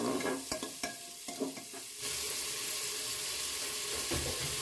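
Chopped onion frying in a pan for a jackfruit curry, with a few sharp stirring scrapes early on, then a steady close sizzle running on alone without any talk.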